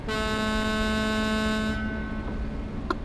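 A loud, sustained truck air horn in Euro Truck Simulator 2 blares steadily for nearly two seconds, then cuts off, leaving rumbling engine noise and a faint echo.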